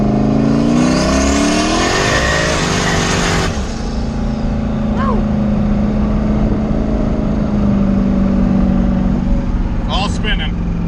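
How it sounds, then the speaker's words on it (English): Ford Camaro with turned-up boost accelerating hard through second into third gear while the tires spin, a loud, close engine roar climbing in pitch with a shift partway through, then a sustained high drone. "I rolled into it in second there, and I grabbed third, and it just kept rolling the tires off"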